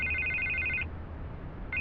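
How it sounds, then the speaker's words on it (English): A telephone rings in Batman: The Telltale Series, a steady electronic trill over a low background hum, cutting off partway and starting again at the end. "I can't get the phone to stop ringing."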